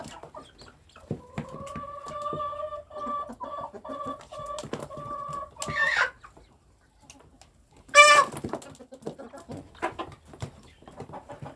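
Chickens clucking and calling close by while eating, in steady repeated bursts, with a sharp louder squawk partway through and quieter pecking sounds between.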